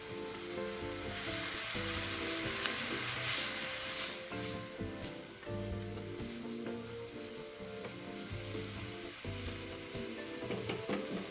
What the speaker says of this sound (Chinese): 接着继续拌炒均匀。